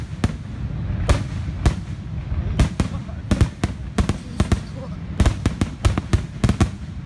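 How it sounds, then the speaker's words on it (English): Fourth of July fireworks burst in rapid, irregular succession, sharp cracks and bangs landing over a constant rumbling background, some close and loud, others overlapping in quick clusters. "How did you like the fireworks, man?"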